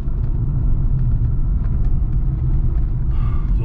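A car engine drones at low revs on a rough village road under construction, with a steady close rumble throughout and a slight change in tone near the end as a gear is selected.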